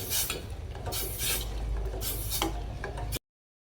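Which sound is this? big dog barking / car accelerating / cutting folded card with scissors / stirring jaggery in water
stirring jaggery in water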